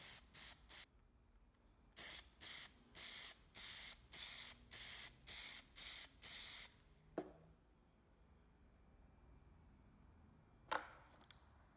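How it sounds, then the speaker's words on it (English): An aerosol can sprays clear coat over PlastiDip in a quick series of about ten short hissing bursts, close and evenly spaced, followed by a quiet pause and two brief clicks or knocks. "So we'll give it a few quick sprays here."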